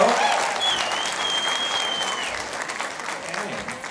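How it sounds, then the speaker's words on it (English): Audience clapping at a school jazz band concert by a high school jazz band, steady dense applause filling the room with a faint whistle or tone running above it, continuing evenly throughout. "You can clap hands."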